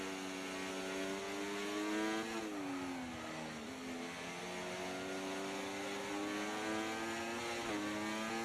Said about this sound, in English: I tend to use the engine sound as an indicator